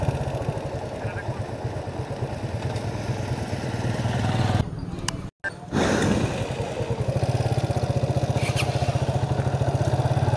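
A motorcycle ridden on the hill road from Bandarban toward Ruma gives a close, steady engine drone with a rhythmic pulse and a brief dropout midway.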